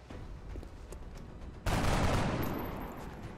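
Weapon fire in the video game XCOM: Enemy Unknown on Xbox 360 erupts as a sudden dense burst of shots after a quiet stretch, loud and close, trailing off into a rumbling decay.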